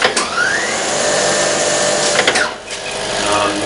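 Holbrook C10 toolroom lathe with a three-speed motor, running loud and close with a steady mechanical whirr whose pitch shifts partway through as the motor changes speed.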